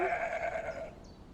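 A goat bleats once in a drawn-out, wavering cry near and clear, with faint farmyard background after it fades.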